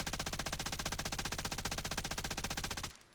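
The brand-new LMG light machine gun in Warzone fires a long, steady full-auto burst of rapid, evenly spaced shots for nearly three seconds, then cuts off.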